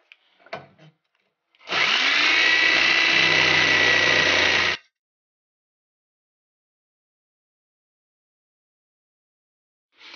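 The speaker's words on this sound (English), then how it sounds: "we're going to notch it right here with the same jigsaw" A jigsaw notches a polyurethane motor mount for a 2006-2012 Mitsubishi Eclipse in one loud, steady buzzing cut of about three seconds, with brief handling clicks before and after and quiet otherwise.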